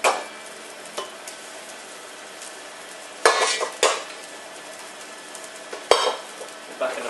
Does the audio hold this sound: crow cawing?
no